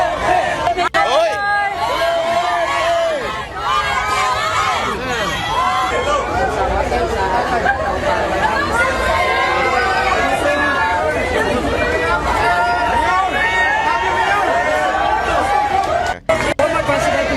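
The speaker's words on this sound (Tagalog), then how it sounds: "Saan ka nakakita ng ganyan ng hiyawan ng mga tao pag bumalik ang isang politiko sa kanilang lungsod?" A crowd at a political homecoming for Rodrigo Duterte, many voices chattering and shouting together in a loud, continuous babble, close and crowded, with a brief dropout near the end.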